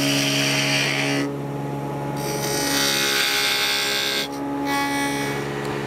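Wood on a lathe as a turning tool forms the bottom of the piece: a continuous, steady whirring and rasping scrape with tonal hum, briefly dropping twice as the cut eases, close and loud with no speech.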